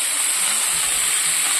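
Ridge gourd pieces hit hot oil with frying potatoes, and a loud, continuous, close sizzle with a bright hiss fills the whole moment without a break.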